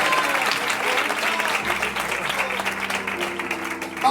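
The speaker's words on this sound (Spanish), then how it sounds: "Pueden darle un aplauso al Rey de Reyes y al Señor de Señores." A Pentecostal church congregation applauds together in a sustained, loud burst of clapping during a church anniversary service, with a faint low hum and voices underneath.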